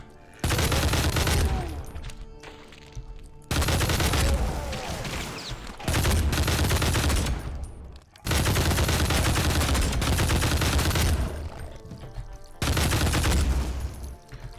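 Chaingunners rising from coffins in a trap in Brutal Doom II, loud sustained bursts of rapid machine-gun fire in several long volleys separated by brief pauses, close and dominant.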